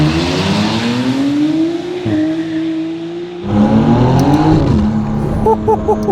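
Novitec McLaren Artura with a new exhaust system accelerating hard through rising gear pulls, loud and close, with shift breaks between pulls and brief chirping sounds near the end.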